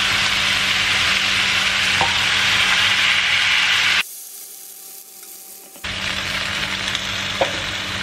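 Water is poured into a hot wok of vegetarian lo mie, and a loud, close, hissing sizzle fills the opening seconds, cuts out abruptly for a moment, then resumes as steady frying.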